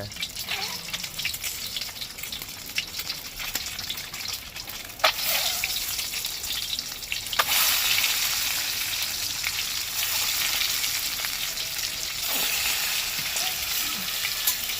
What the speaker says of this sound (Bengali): ডিমটা তাহলে ভেজে নিই আস্তে আস্তে সব ভালো করে লাল করে ভেজে নিই